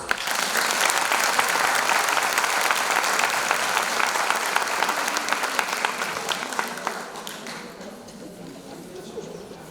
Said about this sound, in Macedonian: Ке ве замолам за аплауз.